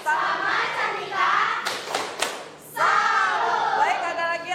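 A classroom of students clapping together in salute, two short bursts of applause with a lull between, close and fairly loud, with brief voices around the clapping.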